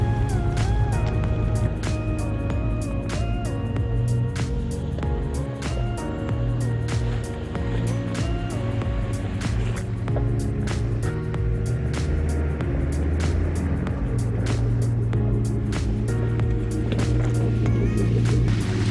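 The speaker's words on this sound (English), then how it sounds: "Kind of neat to see the Subaru all-wheel drive system fight through all that mud." A Subaru with all-wheel drive pushes through a muddy creek section, its engine droning loud and steady with shifting pitch and sharp clicks and knocks scattered throughout.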